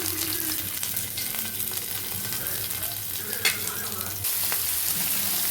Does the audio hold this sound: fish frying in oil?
yes